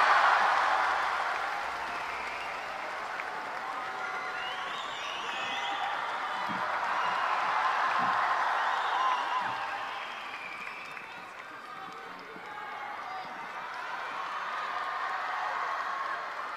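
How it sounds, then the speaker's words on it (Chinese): Audience applause and cheering at a crosstalk comedy show as the two performers are called onto the stage. It is a long, steady wash of clapping that swells and eases, with talking over it. "掌声有请"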